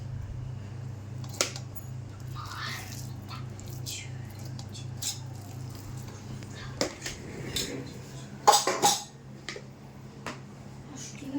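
Ground tamarind pickle scraped out of a mixer jar into a container, heard as scattered clinks and scrapes of a spoon against metal over a low steady hum, growing louder and busier toward the end.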